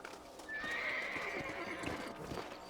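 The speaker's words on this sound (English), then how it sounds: "Let's get back on the horses and see what else is going on." A horse whinnies and neighs over clip-clopping hooves in the video game Red Dead Redemption, a single drawn-out call at moderate distance with no voices.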